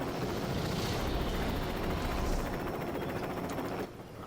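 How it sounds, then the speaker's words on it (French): A helicopter's rotor in the video game LEGO City Undercover thrums continuously at moderate loudness, a steady whirring drone that drops off abruptly near the end. "Oh putain. Hélicoptère."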